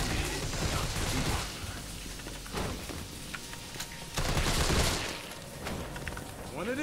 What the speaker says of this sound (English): We're shooting our way out.